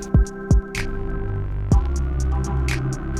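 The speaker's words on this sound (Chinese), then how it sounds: "接下来我们就开始打钉了。" Fasteners are driven into a UPVC skirting backing bracket, giving three sharp, heavy thuds over a steady throbbing tool hum with faint ticking.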